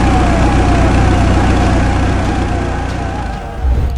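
A loud, continuous siren wails over heavy engine rumble from a large vehicle, steady throughout with a slight dip near the end.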